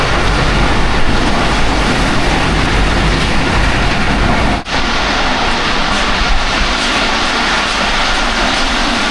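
A Pakistani passenger train bound for Quetta rolls past a station with a loud, steady roar of wheels and wind, broken by one brief dip partway through.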